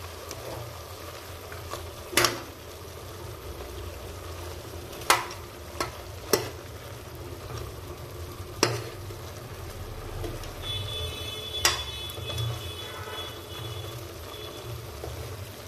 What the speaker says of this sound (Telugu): తర్వాత మనం తీసుకున్న మటన్ మసాలా. ఇప్పుడు ఇవన్నీ బాగా కలుపుకోవాలి.